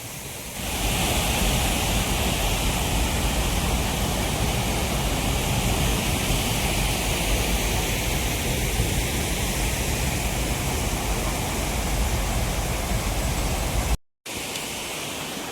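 Ranpat waterfall in Konkan pouring down during the rains, a loud, continuous roar of falling water close by with no voices, broken only by a brief dropout near the end.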